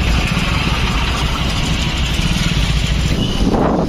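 Idling engines of vehicles stuck in a long traffic jam, heard from a bike, form a steady, close, low rumble with continuous mid-range engine noise throughout.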